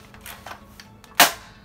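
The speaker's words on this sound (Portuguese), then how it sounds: "Aqui é o gatilho dela. Engatilhou, tá? Atirou." A spring-powered airsoft M4A1 rifle fires a single sharp shot, a loud broadband snap near the end, preceded by fainter clicks of handling as it is cocked; no talking.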